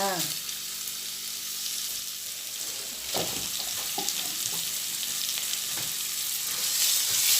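Minced pork for larb, a northern Thai dish, stir-fried in a pan with a continuous loud sizzle and repeated scraping and clattering of the utensil against the pan, with no one speaking.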